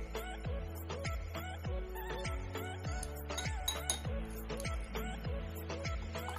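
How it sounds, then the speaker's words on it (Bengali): A cabbage and apple salad dressed with lemon juice, sugar and salt is tossed in a bowl, with a spoon clinking against the dish in a steady, regular rhythm, close and unaccompanied by talk. "এখন এটাকে আমি মিশিয়ে নেছি"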